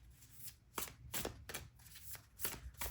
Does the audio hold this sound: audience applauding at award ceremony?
no